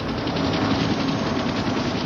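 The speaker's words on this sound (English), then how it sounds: "Mike was packaged for the first helicopter transport." Medical transport helicopter at the Daytona speedway carrying a critically injured race driver, a loud continuous rotor and turbine drone with rhythmic blade pulsing, close and steady.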